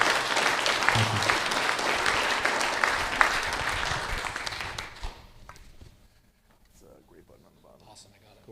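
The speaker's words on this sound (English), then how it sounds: "I think it's time to give you a huge applause." Applause at the end of a real estate social media and podcasting event, a loud sustained burst of clapping that fades out after about five seconds, leaving quiet room sound with scattered voices.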